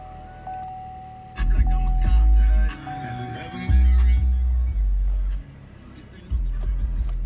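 A 2014 Cadillac CTS engine started by push button: a soft chime, then the starter cranks and the engine catches into a low idle that rises and settles in a few surges.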